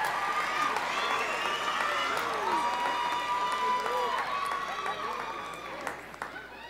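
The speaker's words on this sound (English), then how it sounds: "Let's give one more round of applause for our sing chairs." Audience applause and crowd cheering at a university Sing award show, a steady dense clapping wash that holds loud for several seconds before tapering slightly near the end, with scattered shouts mixed in.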